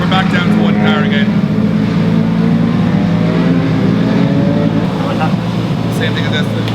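A car engine with broken rockers idles loudly with a steady low drone and rough mechanical clatter, close up, with people talking over it throughout.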